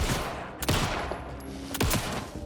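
Game gunfire in Alan Wake 2: a few sharp, loud shots in quick bursts around the one- and two-second marks over a dense, rumbling ambient backdrop, with no talk.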